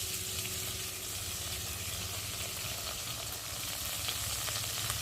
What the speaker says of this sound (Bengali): এবার যে আগে থেকে আদা জিরে ধনের পেস্টটা করেছিলাম সেটা দিয়ে দিলাম।